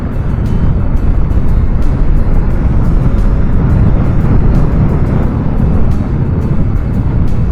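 A BMW CE 04 electric scooter accelerates hard to 100 km/h, its sound a steady, loud broadband roar of wind and road noise with a faint electric whine running through the whole stretch, and no talking.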